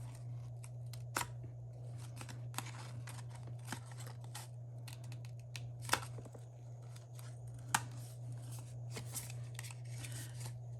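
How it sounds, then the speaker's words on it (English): Scissors cut through paper card in a quiet room. A series of soft, crisp snips comes at irregular intervals over a faint steady hum, with a few sharper clicks standing out. "I'm gonna go in with my scissors and cut the rest of the way"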